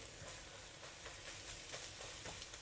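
Beaten eggs sizzle in hot oil in a wok over medium heat, with steady frying crackle and repeated stirring scrapes as they are scrambled, close and continuous, with no talk.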